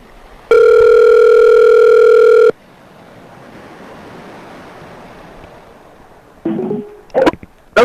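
A steady telephone dial tone sounds loudly for about two seconds on a call, then cuts off into quiet line hiss, followed by a few short clicks and tone bursts near the end.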